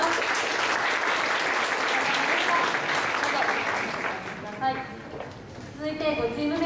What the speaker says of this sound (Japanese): それでは最後に大きな拍手をお願いいたします